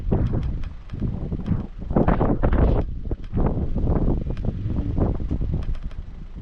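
Wind gusts across a rainy hillside in the Azores, buffeting the microphone in loud, irregular rushes that swell and fade.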